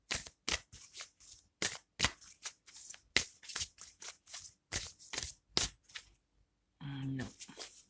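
Everyday Witch Oracle cards being shuffled by hand, a fast series of crisp, close card slaps and riffles, then a pause and a brief spoken phrase at the end.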